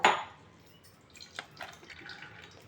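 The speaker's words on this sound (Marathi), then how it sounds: "याचं पाणी आपल्याला व्यवस्थित असं सगळं असं नितळून घ्यायचं आहे" Soaked sago and rice drain through a sieve set over a plate. A sharp knock opens, followed by faint, scattered drips and a light trickle of water.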